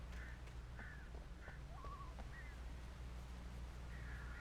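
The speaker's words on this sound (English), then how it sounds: "Can I shoot the bird, please? I'd like to kill the bird." A crow caws in a wooded area in the video game Alan Wake, several faint hoarse calls spaced a second or so apart over a low ambient rumble.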